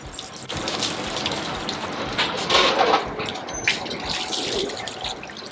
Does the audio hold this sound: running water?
yes